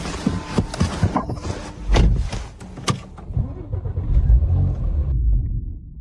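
Porsche Macan Turbo engine cranks and catches with loud bursts and knocks, then rumbles unevenly before dying away to near silence.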